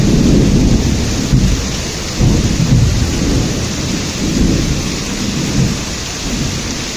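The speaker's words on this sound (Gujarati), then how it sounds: "અહીંયા કડાકા ભડાકા જો વીજળી માથે પડે એવા ભડાકા થાય." A heavy monsoon rainstorm pours down in Rajkot, with hail mentioned. Deep thunder rumbles and cracks roll repeatedly over a constant loud hiss of rain, and no voices are heard.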